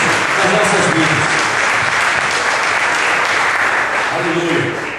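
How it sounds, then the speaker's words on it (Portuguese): A church congregation claps together in sustained, loud applause during a Portuguese-language sermon, a dense continuous patter of many hands that fades slightly at the end. "Vamos dar uma salva de palmas a Ele"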